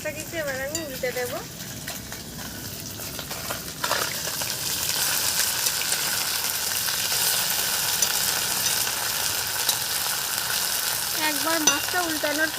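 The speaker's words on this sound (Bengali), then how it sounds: "প্রথমেই মাছটা ভাজা করে নেব" Fish seasoned with salt, turmeric and chili powder sizzles steadily as it fries in a pan, a continuous hiss under brief spoken moments at the start and end.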